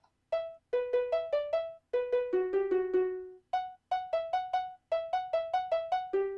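A plinky, bell-like Minecraft note block doorbell melody of short plucked notes, playing alone in quick phrases, several runs separated by brief pauses.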